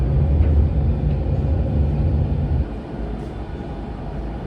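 A nearly empty Barcelona metro train running, a steady low rumble and rolling hum of the carriage that drops slightly partway through.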